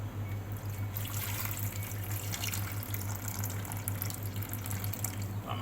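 About 600 grams of water pouring into dough for Thai fried dough sticks: a steady, close trickle and splash of running liquid lasting several seconds over a low constant hum, with no talk.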